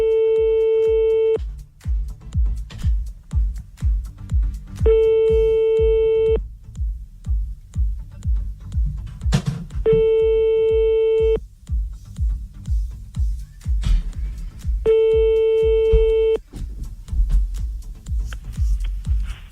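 A telephone busy tone plays during a call-back, four evenly spaced steady beeps about a second and a half long, loud and close, separated by gaps filled with low rustling.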